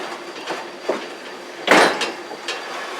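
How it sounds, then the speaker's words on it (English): Metallic clanks and knocks as a caboose is uncoupled on the Durbin Valley Railroad, a few scattered bumps and one sharp louder clank midway, over a steady background hiss. "This is them uncoupling the caboose here at the Durbin Valley Railroad here."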